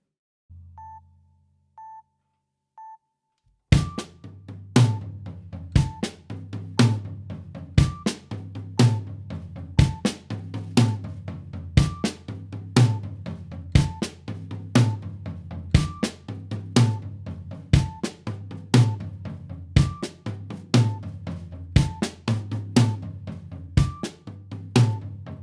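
Linear drum fill split between high tom and floor tom, a steady run of sharp, evenly spaced hits repeating for about twenty seconds after a few short beeps, played alone without talk.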